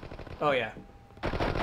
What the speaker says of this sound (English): This guy's shooting. He's shooting through you.